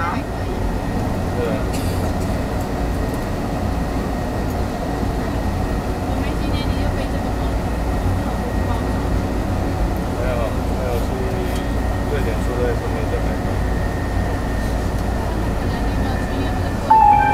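Steady rumble of a New Taipei Metro Circular Line EMU101 train riding between stations on its first day of service, a continuous low in-car drone with a brief chime near the end and occasional voices.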